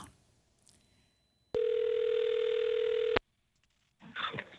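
A telephone rings once during a live morning radio call, a steady electronic tone lasting under two seconds, loud and alone, followed by a faint voice starting up afterward.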